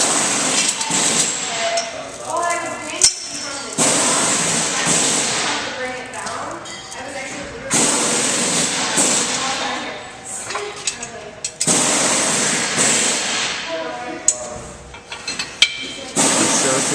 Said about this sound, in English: you bring in the wheel dolly and crank up the arms after applying the safety chain